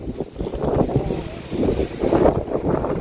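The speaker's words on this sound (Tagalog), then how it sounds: "Hangin na." Gusty wind buffets the microphone in low rumbling surges, rising and falling throughout, loud and close.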